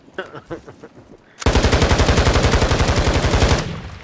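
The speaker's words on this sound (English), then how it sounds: "they wasting all them damn bullets" Video game gunfire: after a quieter opening, a loud, sustained burst of rapid automatic shots hammers out in an even rhythm for about two seconds, then cuts off abruptly.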